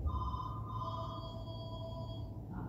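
A phone rings with a steady electronic tone, faint against the low hum of the room.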